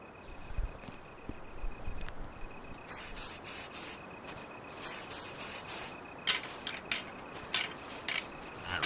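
Hunting scent spray squirted outdoors during a deer hunt: several short hissing bursts in quick clusters, close and crisp, over a steady background of insect chirping.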